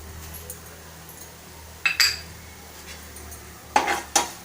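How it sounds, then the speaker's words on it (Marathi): Mustard seeds and a pinch of asafoetida sauté in hot oil for samosa filling, with a soft sizzle under two pairs of sharp clinks of a metal spoon against the pan. "छान असं तेलामध्ये परतवायचं आहे।"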